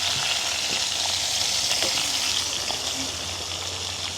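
Onions, green chillies and tomatoes fry for a prawn stir-fry in a village kitchen, sizzling and hissing loudly in hot oil. The steady sizzle runs without a break, with a few faint clinks and stirring sounds.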